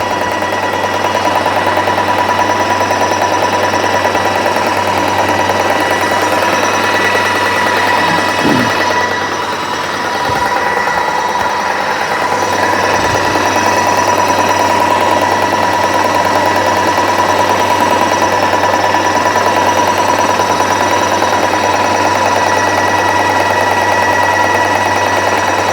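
Paint sprayer pump priming paint from a hopper through its tube, a steady loud mechanical drone with a constant hum that runs throughout, with a brief dip and a few knocks midway.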